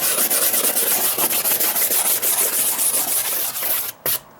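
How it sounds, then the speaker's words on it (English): Steady scraping and rubbing on a wooden deck as treated mold discoloration comes away under a scraper, close and continuous with rhythmic strokes, then a brief pause near the end before one more stroke. "once I treat the discoloration like this, I can scrape on this all day long"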